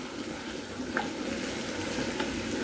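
Hilsa fish marinated with black cumin and salt fries in a pan, giving a steady, close sizzle with a few faint clicks and no talking.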